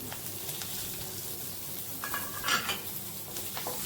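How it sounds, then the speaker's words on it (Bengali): Chopped onions fry in a half-covered pan, giving a steady soft sizzle with light stirring and a few utensil clinks, moderately close and without talk. "তো হাফ ঢাকা করে আমি ভাজছি"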